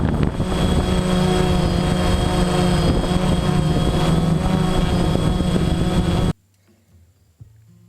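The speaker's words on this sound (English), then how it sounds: "Wow, are those props making a lot of noise." Drone propellers over a golf course roar in a loud, steady whine with a low droning hum, then cut off abruptly, leaving near silence and a faint tap.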